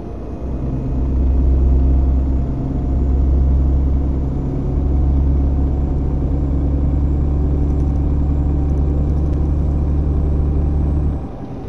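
Truck engines in the PS4 truck-driving game On the Road, a loud, continuous low diesel drone with a steady hum that swells slightly early on and holds for the whole stretch, no talking over it.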